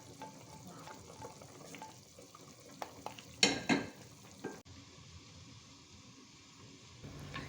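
Sautéed spice paste being stirred into simmering rawon broth in a nonstick pan, with a close sizzling hiss and a few utensil scrapes and clinks partway through, then a steady low bubbling.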